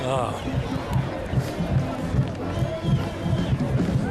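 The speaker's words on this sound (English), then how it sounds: "the Middletown South crowd is going crazy" A high school football crowd at a 1992 Middletown South versus Sayreville game roars in a loud, steady wash of cheering and shouting after an interception, with a commentator talking over it.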